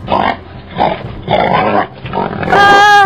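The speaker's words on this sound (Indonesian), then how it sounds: "Kenapa suara babi itu semakin keras?" A pig grunts and oinks in repeated rough bursts, fairly close and loud, ending in a higher squeal-like call.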